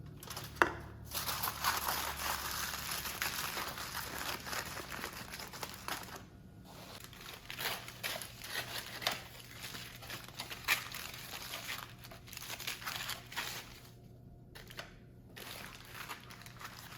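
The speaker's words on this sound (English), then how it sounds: "now we're going to wrap them in foil and add a little liquid to them" Aluminum foil crinkling and crumpling as smoked pork ribs are wrapped, close and continuous with scattered sharper rustles and a few brief pauses, no talking.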